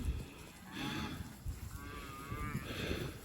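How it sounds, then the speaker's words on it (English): Cows mooing in a field behind a pond: several drawn-out moos in quick succession, fairly close, over low rustling and handling noise. "Crazy cows. They're excited."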